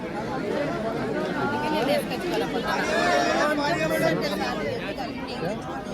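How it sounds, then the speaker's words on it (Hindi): Dense chatter from a large crowd fills the space at Kal Bhairav temple in Ujjain, a steady hubbub of overlapping voices with no pauses, some voices close by. "इतनी भीड़ है यहाँ पे, इतनी भीड़ है"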